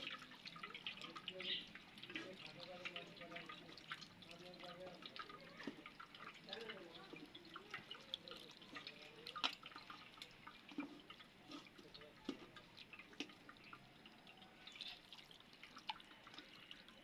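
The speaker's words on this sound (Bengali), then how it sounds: "এবার ছানাটা ভালো করে একটু ধুয়ে নিব, তাহলে ভিনিগারের টক ভাবটা চলে যাবে।" Chhana curdled with vinegar is rinsed under water, giving faint, uneven dripping and splashing in a quiet kitchen, with a voice speaking softly at times.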